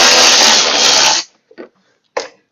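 A power tool, likely a drill or impact driver, removes the bolts holding the fuel tank of a Craftsman riding mower. It whirs loudly and steadily for about a second, then stops, followed by a few short faint knocks.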